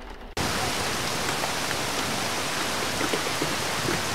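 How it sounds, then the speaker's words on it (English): Steady rain hisses loudly and evenly, starting abruptly after a short quiet moment and continuing without pause, with faint droplet patter scattered through the broadband wash near a horse barn. "do you hear rain? Yes, I suppose that's what that is. Oh my goodness, I love the rain."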